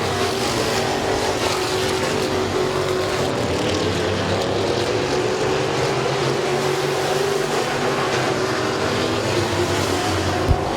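Race cars on the final lap at Midvale Speedway, a continuous loud roar of several engines that holds steady throughout with no talking.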